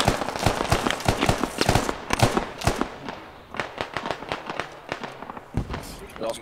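Grenade launcher shots and explosions in a French-speaking squad video game session, a dense run of sharp bursts and booms close up, repeating rapidly throughout with voices talking over them.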